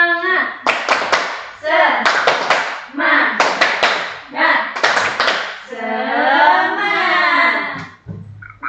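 A classroom group claps in rhythmic patterned bursts while voices chant along in Indonesian, ending with a loud collective shout.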